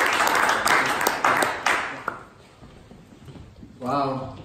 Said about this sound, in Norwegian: Så la oss gi en applaus.